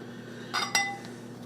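Two quick clinks of a utensil against a bowl as melted butter is mixed into brownie batter, close and crisp amid a quiet background.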